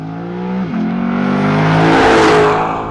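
A 2021 Lexus LC500's naturally aspirated V8 revs loud and close during a launch from a burnout, dipping briefly then climbing in one sustained rising roar with no talk over it.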